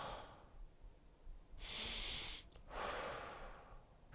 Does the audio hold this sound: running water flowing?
no